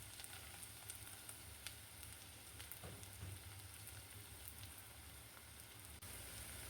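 Sliced onions fry in hot mustard oil in a pot, a steady, close, loud sizzle that carries on unbroken throughout.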